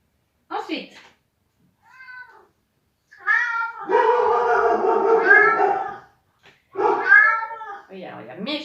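A cat meows several times, one long drawn-out wailing meow in the middle flanked by shorter, higher calls, loud and close, with no talking over it.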